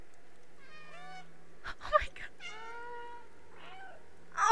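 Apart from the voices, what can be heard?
cat meowing in the video game Stray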